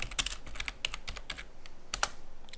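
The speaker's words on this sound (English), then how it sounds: "How about typing that in correctly?" Rapid keystrokes on a computer keyboard, typed at a Linux command prompt: irregular clusters of close, crisp clicks for a few seconds with no voices.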